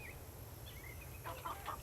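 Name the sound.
chicken clucking in video game Nancy Drew: The Secret of Shadow Ranch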